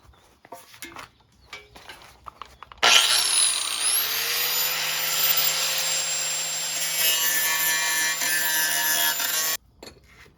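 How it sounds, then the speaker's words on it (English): Power grinder spinning up and grinding old weld off a Husqvarna LGTH 24V54 mower exhaust down to bare metal, a loud, steady abrasive whine with a rising motor tone lasting about seven seconds before cutting off, preceded by light handling clatter. "So we'll clean all the old weld and that up and get it down to bare metal"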